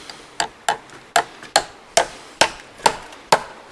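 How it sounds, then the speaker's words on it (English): A hammer drives nails into a hardwood pallet with eight sharp, evenly spaced strikes, each a crisp woody knock that rings out close and loud. "I'm just going to nail that with a couple nails"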